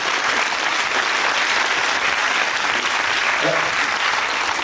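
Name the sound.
audience applause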